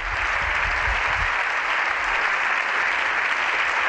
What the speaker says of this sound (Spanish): Aplausos en estos momentos.